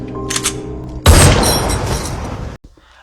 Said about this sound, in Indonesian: Himat langsung menembak satu peluru ke kepala Anita hingga ia tewas.